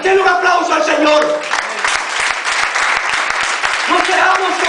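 Church congregation applauding during a Spanish-language sermon, steady dense clapping under loud voices that speak and call out over it throughout.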